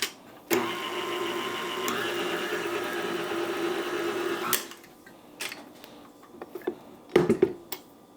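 A stand mixer runs steadily for about four seconds, working a dough of flour, sugar and salt, its motor whirring at an even pitch before cutting off, followed by a few faint clinks and knocks.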